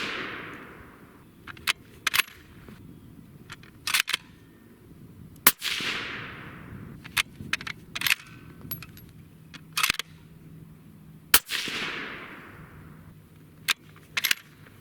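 Sharp, loud 6.5 Creedmoor bolt-action rifle shots firing Berger 156 grain EOL factory ammunition, each crack followed by a long decaying echo, with smaller clicks and clanks of the bolt being worked between rounds.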